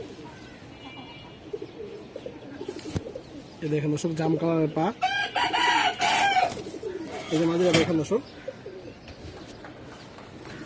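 A hen pigeon gives close, loud bursts of throaty cooing in short repeated rolls, while someone talks between and over the calls.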